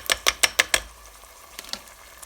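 Rice sautéed with onions in a pan: five quick, evenly spaced sizzling scrapes of stirring close up, then a pause and two fainter stirs.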